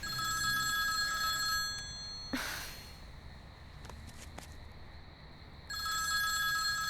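A telephone rings in two long electronic bursts with a quiet pause between, a rustle and faint movement in the gap, fairly close.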